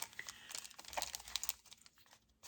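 A plastic package of Simple Stories foam stickers crinkles up close in quick, faint, irregular crackles and rustles.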